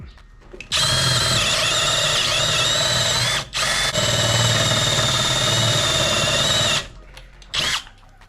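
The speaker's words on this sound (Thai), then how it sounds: "ก็โอเคนะครับ ถือว่าโอเคเลย สำหรับงานเจาะไม้นะ" A PUMA PM-245BL 20 V cordless drill with a roughly one-inch hole saw bit cuts through wood in loud, close bursts: a long run with a brief dip, then a pause and a short final spin.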